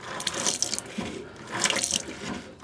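Water from a hand pump runs into the sink of a 1992 Coleman Seneca camper, splashing in two gushing surges, close and steady, with no voices.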